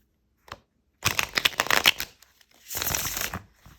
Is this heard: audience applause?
no